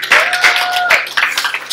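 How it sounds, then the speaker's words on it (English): Church congregation clapping for Jesus during a sermon, a busy wash of hand claps with sharp separate strikes, and a sustained tone from an organ or keyboard underneath. "Give Jesus a hand clap."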